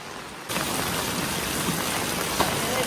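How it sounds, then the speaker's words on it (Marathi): Heavy monsoon rain pouring down in Mumbai, a loud, steady, dense hiss of falling water that continues without a break. "पाऊस बघू शकता मित्रांनो खूप जास्त पाऊस आहे"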